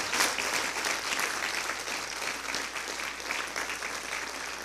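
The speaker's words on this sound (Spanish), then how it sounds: "¿Cuánto le daría un aplauso al Señor por su palabra?" A church congregation breaks into sustained, dense applause, steady loud clapping filling the room for several seconds with a faint murmur of voices underneath.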